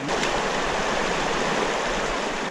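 Stream water rushes steadily at a river crossing in the Gila Wilderness, a loud, close, continuous broadband wash with no voices over it.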